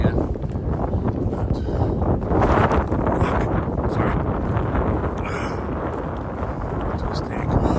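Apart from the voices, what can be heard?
wind blowing on a mountain descent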